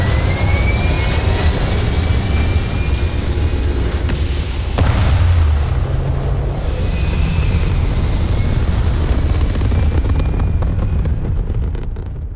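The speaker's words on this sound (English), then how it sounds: "Pressure holding. Takeoff looks good." A spaceship lifts off in the video game Starfield with a loud, sustained rumbling roar and a sharp burst midway, the engine thunder fading toward the end.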